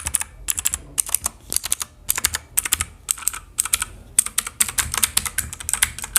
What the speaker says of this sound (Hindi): तो भाई आवाज़ तो तगड़ी कर रही है मैकेनिकल कीबोर्ड